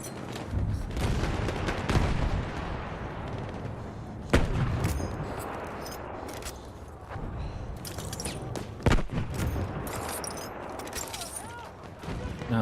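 Battlefield 1 battle noise rolls on continuously with scattered gunshots, distant booms and heavier thumps layered over a dense rumble of combat, loud and busy throughout, with a voice speaking briefly.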